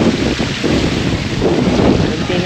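Wind roars and buffets steadily, a dense rushing noise with no pauses, loud and close.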